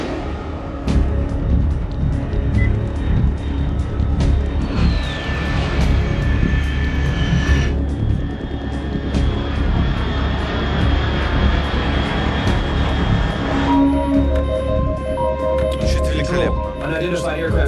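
Aircraft engine drone in Metal Gear Solid 3, a steady loud roar with shifting whining tones and a bright electronic beeping near the end, under a spoken radio-style voice.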